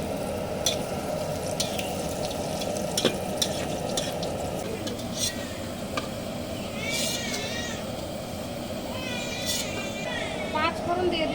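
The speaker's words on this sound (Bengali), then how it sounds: "এখানে শুকনো লঙ্কা তেজপাতা ভেজে নেব।" Dried red chillies and bay leaves fry in hot mustard oil in a kadai, giving a steady, close sizzle throughout, while a cat meows several times and voices murmur in the background.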